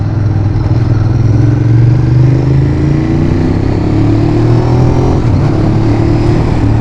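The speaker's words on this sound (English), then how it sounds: "The sound of this bike is actually really nice for a factory exhaust, a factory setup." A Ducati Monster 821 motorcycle with its stock factory exhaust runs close and loud, a steady deep engine note with gentle rises in pitch as it rolls along, wind rushing around it.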